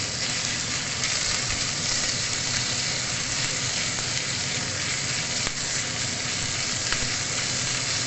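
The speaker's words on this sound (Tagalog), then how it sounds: "ilagay natin tong minced pork" Minced pork fries in a hot pan, giving a steady, dense sizzle that stays loud and close throughout, with faint stirring scrapes and no talking.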